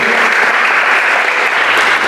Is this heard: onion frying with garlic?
no